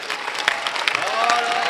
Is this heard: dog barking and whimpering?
no